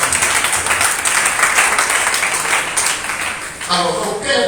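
A church congregation applauds and cheers for the Lord during a Sunday morning service, a dense, loud wash of clapping and voices that carries on throughout and thins briefly before surging again.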